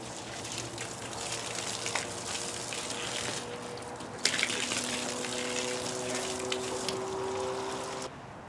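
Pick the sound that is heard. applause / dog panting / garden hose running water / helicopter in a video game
garden hose running water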